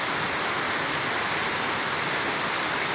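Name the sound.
heavy rain falling at a market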